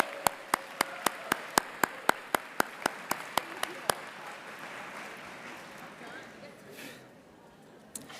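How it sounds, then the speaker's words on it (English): Audience at an annual chocolate ball charity event applauding chefs and winners, a soft spread of clapping under a few loud, regular sharp taps near the microphone in the first half, tapering to quieter scattered claps. "let's have another round of applause for all the chefs and our winners."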